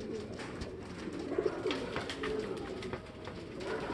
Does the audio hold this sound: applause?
no